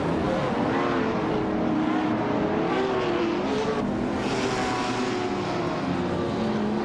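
Race cars in a video game pull away at the start, the field of engines roaring and revving together in a dense, continuous drone, with a 2008 Ariel Atom 500 among them.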